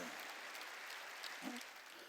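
A church congregation applauds during a Korean worship service, a steady wash of clapping from many hands, fairly faint and even throughout with no distinct voices.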